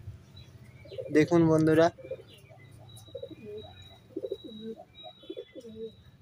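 Pet pigeons in a loft, a short burst of close cooing followed by softer scattered coos and chirps, while someone speaks briefly over them.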